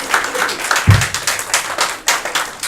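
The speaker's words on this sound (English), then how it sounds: "Another round of applause." An audience at a military singing talent contest at Fort Eustis gives a round of applause: close, dense clapping with uneven swells and one low thump partway through, and no talk.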